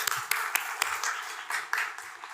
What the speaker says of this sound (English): So see you, big applause.